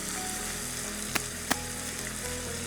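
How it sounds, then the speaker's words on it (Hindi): Ginger garlic paste frying with onions in hot oil, a steady close sizzle throughout with two short sharp crackles partway through. "हल्का सा इसको फ्राई किया।"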